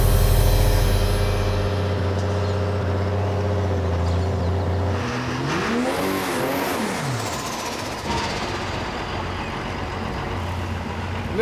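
A 3000-horsepower diesel engine in a restored vintage vehicle revs and accelerates on a track, its loud, close rumble climbing and falling in pitch with gear changes before settling into a steady roar.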